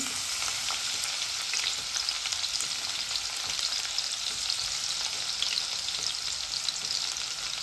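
Continuous crackling sizzle of crushed garlic frying in hot oil until crisp, steady and close, with occasional stirring and no voices.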